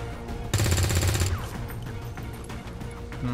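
Burst of rapid automatic gunfire from the XCOM 2 video game, loud and dense for just under a second, then trailing into scattered quieter shots and game effects.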